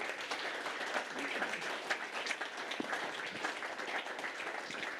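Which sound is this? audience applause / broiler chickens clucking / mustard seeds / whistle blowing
audience applause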